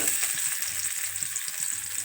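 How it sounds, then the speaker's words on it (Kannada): Finely chopped onion sizzles steadily in hot oil for a village-style tempering, a dense continuous frying hiss with faint stirring taps underneath, close and alone. "ಎಣ್ಣೆ ಕಾಲೈತಿ, ಅದಕ್ಕೆ ಒಗ್ಗರಣೆಗೆ ಉಳ್ಳಾಗಡ್ಡೆ ಹಾಕೊತೀನಿ."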